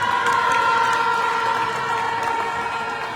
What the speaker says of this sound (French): je vous demande également de bien applaudir